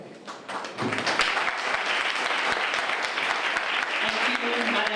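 Audience at a school prize giving and awards ceremony bursting into loud, sustained applause after a brief quieter moment, dense clapping with some thumps and voices mixed in.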